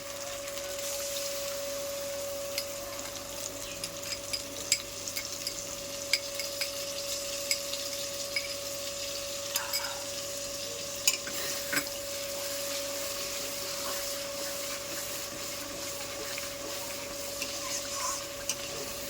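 Coriander and mint paste frying in hot oil while being stirred for a spicy chicken dish, a steady close sizzle with scraping stir strokes throughout and no talking.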